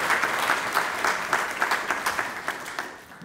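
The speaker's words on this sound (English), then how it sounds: "You can't raise your hand if you're applauding." Audience applause at a symposium lecture hall, dense steady clapping from a crowd that tapers off toward the end, loud and close.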